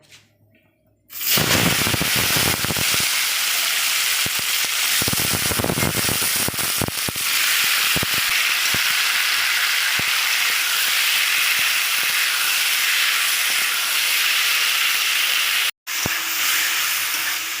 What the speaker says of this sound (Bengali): এবার আমি কুচিয়ে রাখা টমেটো দেবো